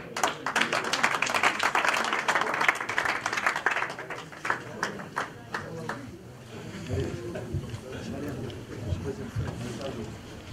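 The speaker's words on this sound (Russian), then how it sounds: "Отдельные аплодисменты." Applause at an award ceremony for a religion knowledge quiz game in Ingushetia: a dense burst of crowd clapping for several seconds that thins out into scattered claps, with the hall murmuring and a voice speaking at the end.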